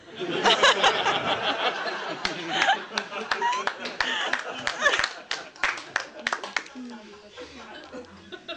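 Live stand-up comedy audience in Market Harborough reacts with scattered clapping and chuckling laughter, a mix of crowd noise that thins out into sparse claps and fades toward the end.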